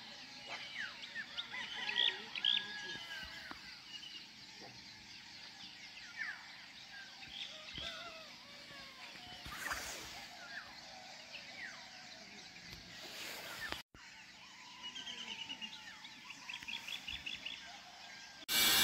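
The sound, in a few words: birds singing beside a flowing river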